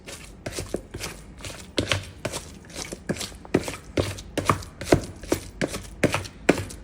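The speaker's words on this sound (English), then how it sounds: "We're gonna go ahead and mash this and make our guacamole." Avocado mashed for guacamole, a steady series of soft, wet thumps and squishes from a masher pressing into the bowl, close and fairly quiet with no talking.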